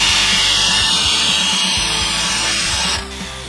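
Power drill boring a hole during a bathroom renovation, steady loud whine with a low rumbling drive underneath, running continuously for several seconds before easing off near the end.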